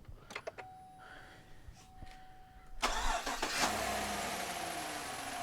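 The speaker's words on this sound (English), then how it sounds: "So now we're going to start our engine to show you that everything's back to normal." A GMC Sierra pickup truck (2008–2018 model range) cranks and starts after a battery replacement; a few faint clicks, then a brief starter whir and the engine catches, settling into a steady idle.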